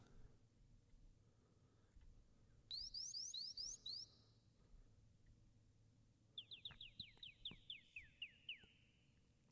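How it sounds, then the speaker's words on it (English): Two short bursts of rapid, high chirping bird song ring out in a video game over a quiet low ambient hum, the second run of chirps slightly longer and fading downward. "There's some decent bird noises."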